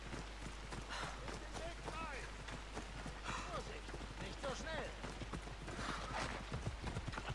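A horse in the video game Assassin's Creed Odyssey gallops with rapid, rhythmic hoofbeats, moderately close and steady throughout, while someone talks over it.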